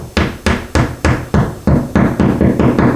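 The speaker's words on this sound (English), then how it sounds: "we just tap it in the rest of the way with the hammer" A hammer taps a plastic drywall anchor into a hole drilled in a tile wall: about ten sharp, evenly spaced knocks, loud and close, with no talking.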